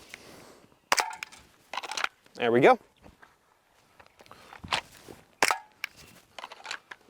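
Sharp cracks of gunfire at an outdoor shooting range at sunset, several separate shots with a can being hit, mixed with footsteps and handling noises, and a person speaking briefly between shots.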